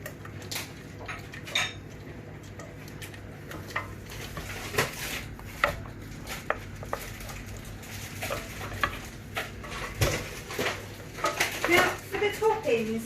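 A spoon stirs a mixture in a bowl in a home kitchen, with irregular clinks and scrapes of utensil against the dish and soft sizzling behind, while a person talks throughout.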